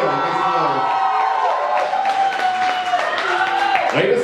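A live audience at a spoken-word show claps and cheers, a continuous wash of applause with whoops and shouting voices rising through it over a few seconds.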